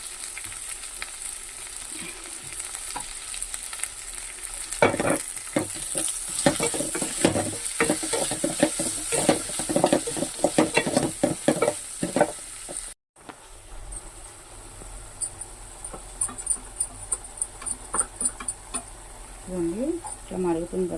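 Puri curry, a potato curry being thickened with gram flour, bubbles and sizzles in a pan alongside steady stirring and scraping, a continuous close simmer with a brief dropout midway and a voice talking over it.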